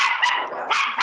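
A dog barks during an office celebration of an IT professionals' week, a couple of close, loud yelping barks in quick succession with no talk over them.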